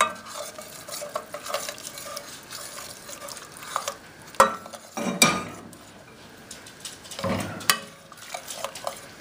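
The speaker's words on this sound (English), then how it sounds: "Add some broth." Broth poured into flour for a chicken pot pie and stirred in a pot, heard as close wet scraping and clinking spoon strokes with faint bubbling, irregular and fairly quiet, with no talk.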